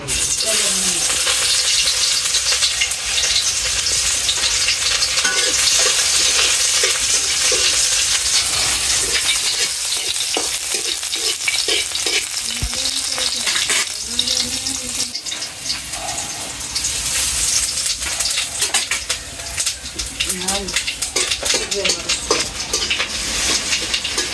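Onions and whole cumin seeds sizzling in hot oil in a home kitchen, a steady loud crackle with stirring and clinks running throughout and no talking.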